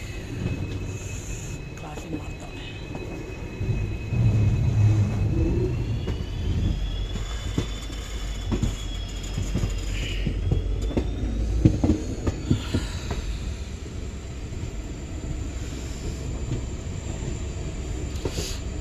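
A small old train on the Talguppa to Mysore line rumbles steadily along the tracks, with clattering wheels and a long, high squeal of metal rising and falling over the noise.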